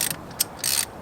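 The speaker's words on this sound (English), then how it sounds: "Then get the ratchet." A ratchet tightening a spark plug on a Ford Crown Victoria during a tune-up, three short bursts of crisp metallic clicking, close and loud, with brief pauses between strokes.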